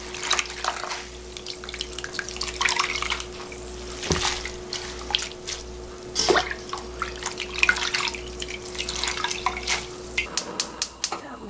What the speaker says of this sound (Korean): 그래서 한번 이렇게 헹궈주는 겁니다